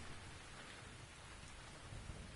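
Rain falls steadily in the video game The Invisible Hours as a dense, even hiss with soft low rumbling underneath. It is faint and continuous, with no voices.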